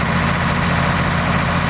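A late-model 1992 Caterpillar D7G bulldozer with a tilting angle blade idles steadily nearby, its loud, even low diesel rumble and vibration running continuously with no variation in pace.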